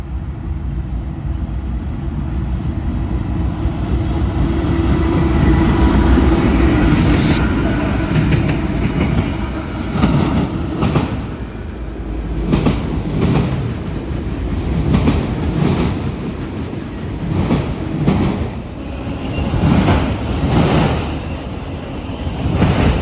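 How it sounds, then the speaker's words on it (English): A CSX auto rack freight train rolls past close and loud, led by a GE Evolution locomotive with an AC44 second, its wheels clattering in uneven bursts over a heavy rumble that fills the whole stretch. "Next up was a CSX auto rack train with a GEVO in the lead and a YN2 AC44 in second."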